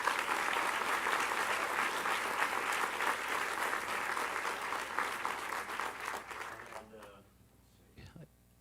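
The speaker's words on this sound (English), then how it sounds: "can we just give these gentlemen a nice round of applause?" Steady applause from a museum audience for a climate change panel, continuous clapping for several seconds that fades out, followed by quiet room noise and a brief sound at the end.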